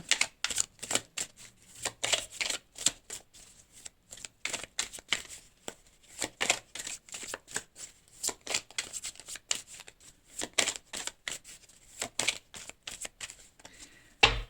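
Tarot or oracle cards are shuffled and drawn in a steady stream of quick riffling snaps and soft slaps, close and fairly quiet, with no talking over them.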